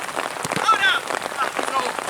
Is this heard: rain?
yes